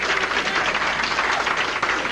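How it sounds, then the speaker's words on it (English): Steady audience applause for a bowler at a televised 1987 King of Bowling event at Greenhills Lanes, a dense continuous wash of clapping filling the hall with no voices over it. "Well-deserved round of applause."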